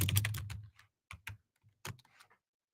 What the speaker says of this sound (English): Pardon the gigantically loud gaming keyboard that you just heard.